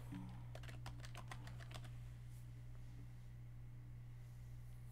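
Quick keystrokes on a computer keyboard typed with one hand, about ten close, crisp taps in a short burst over a steady electrical hum, then quiet.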